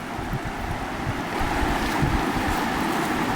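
Rainwater pours down in a steady, close, broad hiss that swells slightly halfway through and carries on without a break; no voices.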